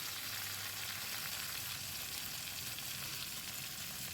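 Soft eggplant fries with a freshly ground spice paste for a vegetarian begun dish. A dense, steady sizzle holds evenly throughout, with no voices.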